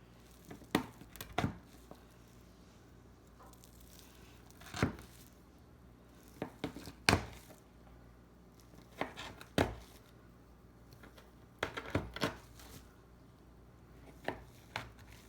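A knife cuts through freshly baked chocolate chunk cookies with about a dozen crisp, sharp crunching strokes at an uneven pace, close and fairly quiet between cuts.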